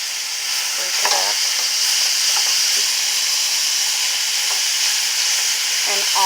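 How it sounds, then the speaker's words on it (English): Two pounds of ground meat sizzle loudly in a pan holding leftover sautéed vegetable drippings, a bright continuous hiss with a few scrapes as it is broken up and stirred. "So I'm going to throw in 2 pounds of meat."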